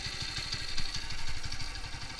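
A carburetted engine idles with an uneven, lumpy low pulse and a faint mechanical clatter on top, close by and steady in level with no voices.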